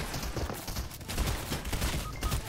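Sustained gunfire in a shooter video game, a dense, loud run of overlapping shots and bursts filling the whole stretch without a clear pause, no voice over it.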